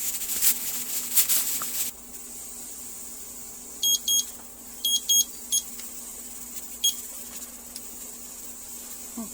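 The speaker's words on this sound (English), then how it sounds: "this timer's gone off" A kitchen timer on a stovetop pressure cooker beeps in several short bursts of high chirps with pauses between them, loud and close over a low steady room hum.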